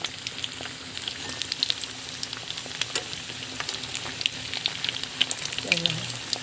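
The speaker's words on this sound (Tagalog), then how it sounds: "Yan na ang ating tsura ng ating lechon kawali sa ating second frying." Lechon kawali pork crackling in hot oil during its second deep-frying, a busy close sizzle with scattered pops and spatters, with light stirring sounds toward the end.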